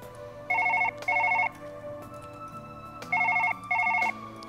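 A telephone in the surgery game Surgeon Simulator 2013 gives two double rings, each pair of bright trilling bursts separated by a pause, loud and clear over a low background hum.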